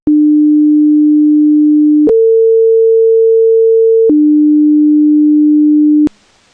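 A pure sine tone generated in Audacity holds steady, steps up to a higher pitch, then drops back to the original pitch, mimicking a Doppler shift, loud and continuous for about six seconds before cutting off.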